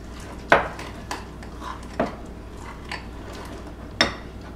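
A spoon stirring mini chocolate chips into microwave chocolate chip cookie batter, making a few sharp, close clinks against the mug or bowl at irregular intervals over quiet background.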